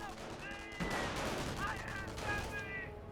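Gunfire in the World War II strategy game Company of Heroes, rapid rifle and automatic bursts crackling on and off beneath a commentator's voice, at moderate level.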